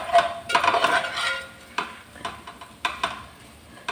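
Soaked chitti mutyala rice added to tomato masala frying in a pan, making a close sizzle with scraping stirs and a few sharp utensil knocks against the pan, and no talking.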